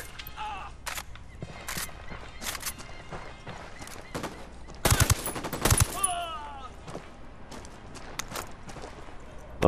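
Gunfire in Ghost Recon Wildlands, scattered shots and sharp bursts around Villa Verde, with a dense loud volley midway amid game ambience.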